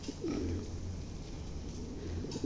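A pigeon at a bird feeder gives a low, soft coo close by, a muffled throaty rumble in one continuous phrase with no talking.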